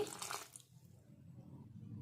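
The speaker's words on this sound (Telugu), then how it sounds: "ఒక కాలు కప్పు వాటర్ వేసుకోవాలి" A quarter cup of water is poured into ponganalu batter in a short, faint splash at the start, leaving a quiet low hum.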